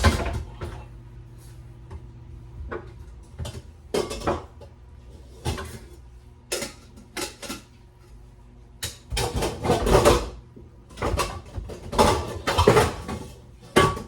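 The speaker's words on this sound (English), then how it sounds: "I'm just making a lot of noise, guys. Don't mind me. Trying to get the pots out that I need." Pots and pans clatter and clank in a home kitchen as they are pulled out of a cupboard, a string of sharp metallic knocks and scrapes in irregular bursts, close by with a quiet background.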